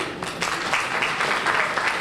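Broad applause from a banquet audience honoring donors at an annual appreciation dinner, steady and fairly loud, swelling slightly after a brief start.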